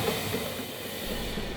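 A train rolling past, a steady low rumble with a faint rhythmic rattle of cars on the rails, heard alone and at moderate distance.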